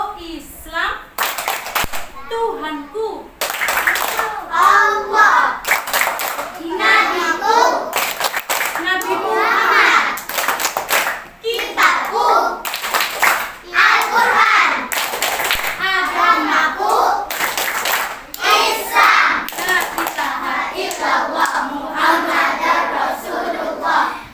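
Schoolchildren in an Indonesian class perform the Tepuk Islam clapping chant, sharp rhythmic handclaps interleaved with their sung and shouted lines, loud and close, with a teacher's voice among them.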